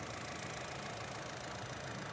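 A 2018 Honda Amaze VX four-cylinder engine idles with a steady, even hum. It is a faint, continuous drone with no breaks and no voices.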